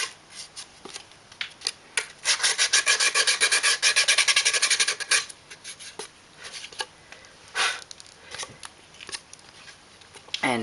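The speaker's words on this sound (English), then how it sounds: "Here's the sandpaper provided." Sandpaper rubbed on a wooden gear-box kit piece gives close, scratchy rasping, with a fast steady burst of back-and-forth strokes followed by slower scattered scrapes.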